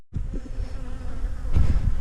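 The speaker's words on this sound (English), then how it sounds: "nice fun little walk around the bee yard today, guys" Honey bees buzz in a bee yard while drinking sugar syrup, a steady, dense hum that stays close and grows louder toward the end.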